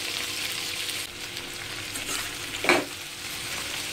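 Roughly cut vegetables for a matar paneer paste fry in a pan with a steady close sizzle, a few stirring scrapes and one louder clatter near the end, no talking.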